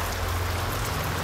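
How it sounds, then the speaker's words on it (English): Rain falls steadily into the open, windowless concrete shell of an abandoned office tower, making a dense, even hiss of drops and splashes that runs unbroken throughout. "Now that the windows are gone, nothing can stop the rain from flooding the concrete skeleton of this office tower"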